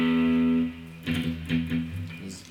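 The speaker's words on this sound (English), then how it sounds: "when they palm mute with distortion" A distorted electric guitar rings a sustained chord, then plays short palm-muted chugs in a choppy rhythm, fairly quiet and with no talking.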